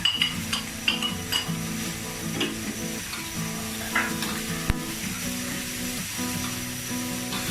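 Tempeh stir-fry with spring onions sizzling steadily in a pan as it is stirred, with scraping and light utensil clinks throughout, close and moderately loud with no talking.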